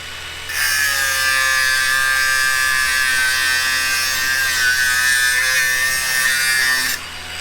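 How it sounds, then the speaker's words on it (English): Grinder with a flap disc cleaning up steel on a car trailer deck extension, a loud, steady high whine held close for about six seconds with slight load changes, starting and stopping abruptly. "Clean it up with the flappy now."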